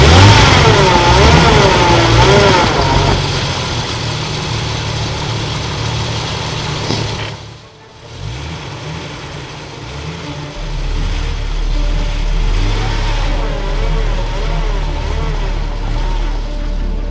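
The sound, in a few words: off-road 4x4 engine revving on icy snow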